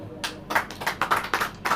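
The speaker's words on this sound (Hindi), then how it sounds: "ताली बजाओ।" A small church congregation claps hands in an irregular, fairly quick rhythm of about nine claps over roughly two seconds, close and moderately loud, with no talk over it.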